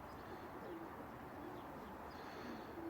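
Ice pigeons in a breeding loft give low, soft coos that repeat now and then over a steady murmur of birds, fairly faint and with no talking.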